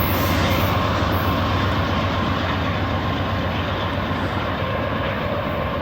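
A freight train with a DPU locomotive at the rear rolls past close by, giving a steady, loud rumble and rush of wheels on rails without a break.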